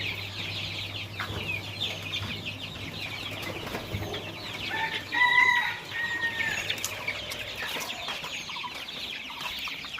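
Chickens and chicks in a rooftop poultry brooding area, with scattered faint peeps and clucks, brief wing flaps and one louder call near the middle over a low background hum.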